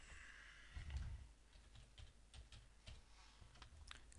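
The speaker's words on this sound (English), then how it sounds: "we just type in London" Keys clacking on a computer keyboard in a quiet office setting, a short burst of soft, rapid keystrokes with a slight thump near the start, close and fairly faint.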